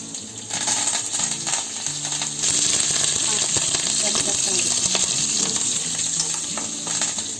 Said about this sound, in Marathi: आता हे छान तडतडलं की ह्यात टोमॅटो टाकायचा